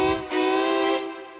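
A reedy wind instrument played on a C with a glide done twice, imitating a train horn: two close, loud sustained harmonic blasts, the second longer, then a short fade.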